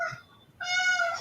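A pet cat gives two meows, a short one followed by a longer, louder, drawn-out one, heard close up in a quiet room.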